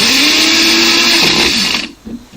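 Magic Bullet blender grinding flaxseeds, a loud high-pitched whirring roar that holds steady for about two seconds, then winds down and cuts off.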